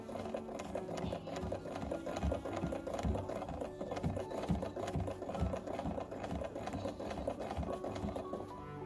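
A vintage Australian-made SAF Pinnock sewing machine runs steadily with a fast, rhythmic mechanical clatter and whir, close by and fairly quiet, without pause.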